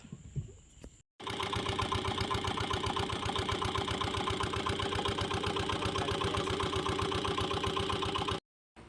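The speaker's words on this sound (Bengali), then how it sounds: "যাই এখন ইঞ্জিনটা দেবো" A boat engine in the Sundarbans catches after a brief pause and settles into a steady, rapid mid-pitched chugging idle, loud and close, running for several seconds before cutting out abruptly.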